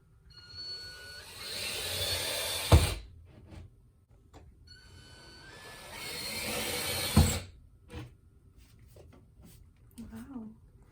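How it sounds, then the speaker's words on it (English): Two bursts of high-pitched power drilling into four places, each a couple of seconds long and ending with a sharp knock, separated by a quiet pause; brief voices follow. "I'm gonna drill a hole into the 4 different places"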